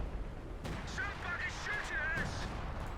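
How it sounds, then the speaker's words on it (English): Artillery fire striking a Sherman tank in Company of Heroes 2: rumbling booms and crackling impacts over a dense battlefield din, with a voice talking through it. "Artillery fire currently hitting that Sherman, pushing it back"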